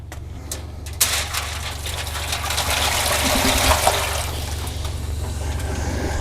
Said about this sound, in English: We're just going to let everything drip right down into the water pan.